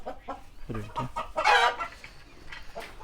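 Mixed free-range and egg-laying chickens cluck and squawk close by in a busy series of short calls, one louder drawn-out squawk rising in the middle.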